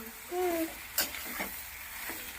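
Mashed potato filling with green chilli for bread pakoda is stirred in a hot pan, giving a brief close sizzle with a few scraping strokes of the spoon and no talking.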